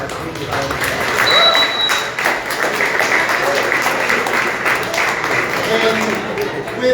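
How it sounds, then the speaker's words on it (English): Applause from a high school audience at an event celebrating a national computer science award: a broad, sustained wash of clapping from many people, fairly loud and close, holding steady for several seconds. "give Ms. Sabatier and Mr. Hoffman another round of applause"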